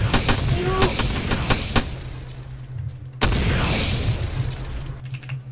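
Rapid gunfire and explosions in Roblox Armored Patrol: a quick volley of sharp, loud shots, a pause, then a single heavy blast followed by a rumbling tail over a low engine drone.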